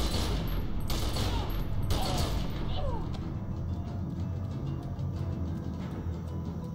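Kalashnikov rifle gunfire in Secret World Legends, a dense rapid fusillade of shots with thuds and mechanical clatter, loudest in the first few seconds and then thinning into a steady busy combat din.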